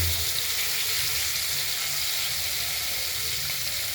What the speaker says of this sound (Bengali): এই কড়াইতে তেলটা আগেই গরম করে রেখেছিলাম আমরা এই গরম তেলের মধ্যে আমরা মাছগুলো চার পিস মাছ রুই মাছ আমরা ভেজে